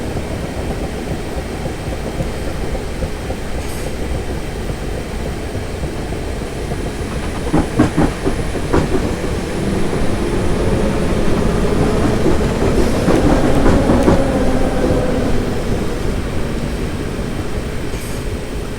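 Train running on rails in Train Simulator 2018 on the Guildford to London Waterloo line: a steady, close rumble with a burst of clickety-clack wheel beats midway that swells louder toward the end. No voices.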